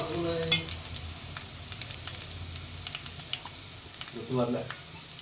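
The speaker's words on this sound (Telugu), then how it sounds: "ఉల్లిపాయ కూడా మంచిగా ఎర్రగా వేసుకోవాలి ఇదిగో చూడండి మనకి ఆనియన్ అనేది మంచిగా వేగింది కదా" Onions frying in a pan for egg paneer pulao, a faint steady sizzle with light scattered stirring taps and a brief louder clatter near the end.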